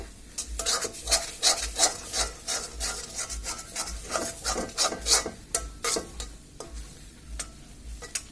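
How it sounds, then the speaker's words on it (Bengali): Spoon scraping steadily through a dried-fish (chapa shutki) bora mixture frying in a pan, with close, repeated rasping strokes in a quick, even rhythm over a faint sizzle. "আর এরকম লাল লাল হওয়া অবস্থায় নেড়েচেড়ে এটাকে আমরা নামিয়ে ঠান্ডা করে তারপর আপনাদেরকে বড়া রেডি করে দেখাবো। এটা অনবরত নাড়তে হবে।"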